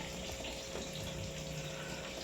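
A steady, faint stream of a little water being poured into cooking shellfish, a soft continuous trickle with a low hum underneath.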